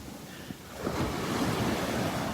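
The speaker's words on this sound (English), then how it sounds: "Listen to those waves breaking." Ocean waves at Delnor-Wiggins beach build and break over the outer edge of a sandbar, rising from a quieter wash into a steady, close surf roar with light wind noise across the microphone.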